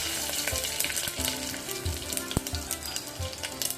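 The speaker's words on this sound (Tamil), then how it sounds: "குக்கர் நல்லா ஹீட் ஆனதுக்கப்புறம் ஆயில் சேர்த்துட்டு ஆயில் நல்லா காஞ்சதுக்கப்புறம் ஸ்பைசஸ் நம்ம எடுத்து வச்சுருக்கோம் இல்லையா, அதை வந்து நம்ம ஆட் பண்ணிக்கலாம்" Whole spices crackle and sizzle in hot oil inside a heated pressure cooker for pulao, a steady bright frying hiss with scattered sharp pops, close and fairly loud.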